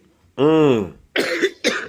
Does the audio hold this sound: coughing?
yes